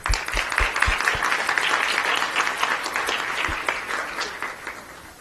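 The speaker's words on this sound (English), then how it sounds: "So let us take a moment to applaud one another." A graduation audience of Middle Eastern and North African grads applauds one another, with a dense, sustained wash of many hands clapping at moderate distance that swells, holds and slowly tapers.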